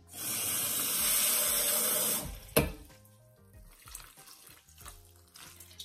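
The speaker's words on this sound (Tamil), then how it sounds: "இனி நாங்க தண்ணி சேர்த்துடலாம்." Tap water pours loudly into flour batter for Sri Lankan kunduth dosa for about two seconds, then cuts off, leaving faint clatter and small kitchen sounds.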